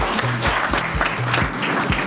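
Audience applause at a women's leadership event, a short burst of clapping with a few distinct claps standing out and a faint tonal hum underneath.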